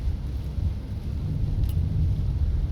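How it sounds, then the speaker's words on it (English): Rain falling on the new St Thomas highway near Bull Bay, Jamaica, during flooding: a steady, continuous wash of heavy low rumble with a soft hiss above, unbroken and moderately loud throughout, with no voices. "So we have a little rain falling now on the highway."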